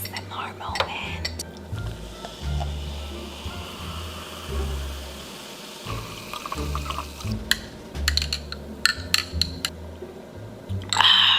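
Soda is poured into a glass in a quiet close-up: a soft fizzing, bubbling pour with a few light clinks, under low murmured talk.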